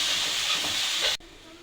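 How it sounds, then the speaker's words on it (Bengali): Grated coconut frying in a pan, a steady broadband hiss and sizzle for about a second before it cuts off abruptly, leaving a quieter room tone. "দেখুন, নারকেলটা এভাবে অনেক সময় ধরে আমি ভেজে নিয়েছি।"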